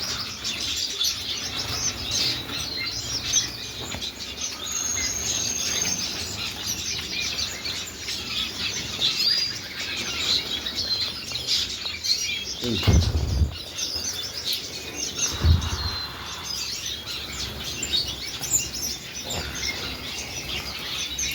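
Small birds chirp and tweet constantly inside a Belgian bird shop, a busy layer of high calls with some wing flapping and a couple of low thumps, while voices murmur in the background.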